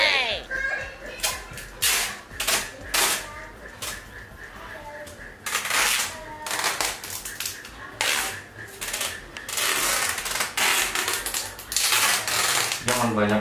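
Tape is ripped off the roll in repeated rasping bursts, some short and some drawn out, as it is wound around someone's hands for a blindfolded banana-eating challenge, with voices talking in between.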